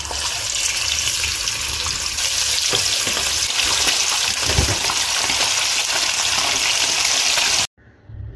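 Chicken fries in hot oil for ayam masak merah, a loud, dense, steady sizzle crackling close up until it cuts off abruptly near the end.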